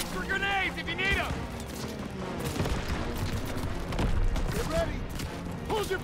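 Rapid gunfire from the World War II shooter Call of Duty WWII, with shots and blasts rattling continuously through a dense battle mix while soldiers shout over it.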